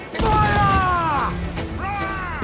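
Ship cannons fire during a naval battle in Assassin's Creed IV Black Flag, a heavy boom followed by a ringing, groaning crash, with a shouted voice over it.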